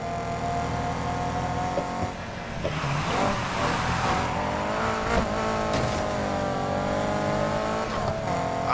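Race car engine from Need for Speed Heat roaring steadily through a lap, revving up and down with gear shifts and a brief tire squeal, loud and continuous with no talk.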